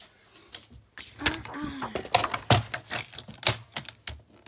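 Paper being cut for a traveler's notebook, a series of sharp crisp snips and clicks spaced irregularly, with brief rustling between cuts, close and moderately loud.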